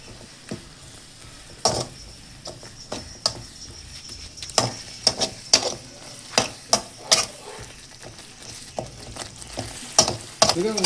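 Fish fries in a pan of reducing coconut milk for Kerala-style meen pollichathu while a utensil stirs it, with a constant sizzle broken by a dozen or so sharp, close scraping clacks at an uneven pace.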